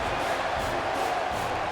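A wrestling arena crowd in WWE 2K18 cheers in a steady, dense roar that holds at an even level throughout, with no single voice standing out.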